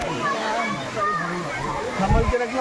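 Muktai waterfall, a scenic spot in Chimur taluka, gives a steady broadband rush of falling water that runs beneath continuous nearby talk, rising slightly toward the end.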